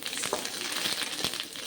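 Curry leaves frying in hot oil with onion and garlic for a village-style sambroli gravy, giving a steady close sizzle with faint crackles and a few sharper pops, no voices.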